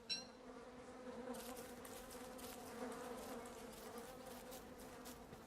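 Steady insect buzzing from a swarm of flies in the video game Don't Starve, continuous and droning, with faint shifting tones layered over a low ambient hum.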